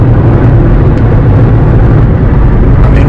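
A Volkswagen Touareg TDI towing a trailer uphill on a mountain road, with a steady loud low engine and road drone at highway speed and constant wind and tire noise throughout.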